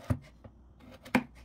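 A knife cuts potatoes into large chunks on a board, with two sharp, close chops about a second apart and quiet pauses between them.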